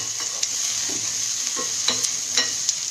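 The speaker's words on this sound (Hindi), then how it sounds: "ये सौते हो रहा है।" Dal and jaggery mixture for puran poli sautéing in a pan until dark brown, a steady sizzle with occasional soft scraping stirs of a spoon.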